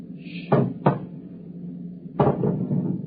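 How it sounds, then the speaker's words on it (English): The lock of a compartment door being opened, with a sharp metallic clack, a second quick clack, then after a pause a heavier clunk with rattling. All close and distinct against a low hum. "It's opening the lock."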